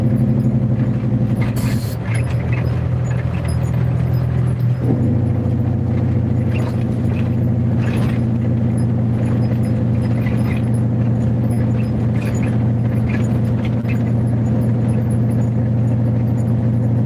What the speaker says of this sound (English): You'll hear my Jake brakes pretty much the whole way down this one.